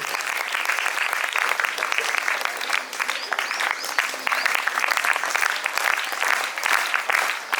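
Audience applause greeting a guest at a children's poetry gathering (Bal Kavi Sammelan) at a school, steady dense clapping from a large crowd lasting throughout, even and sustained without pause.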